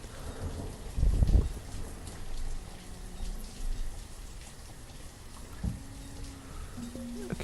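Steady rain from the video game Banished, a continuous hiss across the clip with a louder rumbling burst near the start, like distant thunder, and a few faint tonal game sounds later.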